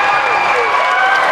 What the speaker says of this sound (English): the MVP chant is coming from the Paulsboro crowd